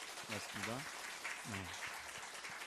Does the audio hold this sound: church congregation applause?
yes